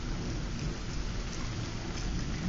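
Steady heavy rain with rolling thunder during a lightning storm, a dense, even wash of downpour with low rumbling underneath, continuous and close, with no voices.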